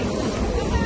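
Heavy sea waves surge and slosh around a ferry off Kanyakumari at Cape Comorin, a dense, steady wash of water and wind close to the microphone through the whole short moment.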